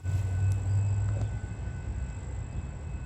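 An outbound Metra commuter train rolls past the Downers Grove station, a steady low rumble with a faint high whine, loud and close at first and then easing slightly as it continues.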